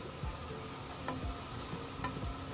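Onions fry in hot oil for a home-style chicken roast, giving a faint, steady sizzle with a few soft scrapes of stirring and no voices.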